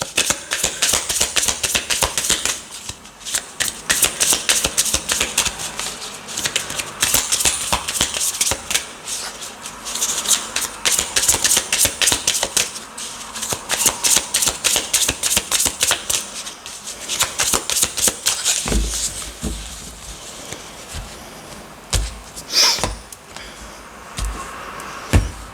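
Oracle cards from a Mystical Forest deck being shuffled, a long run of crisp riffling and flicking, close and loud, continuing in bursts with small pauses near the end.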